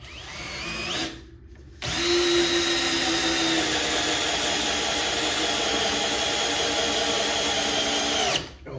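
Makita cordless drill driver running on setting 1, a loud steady motor whine that spins up after a short burst and brief pause, then holds evenly for several seconds before cutting off, close-up and without talking.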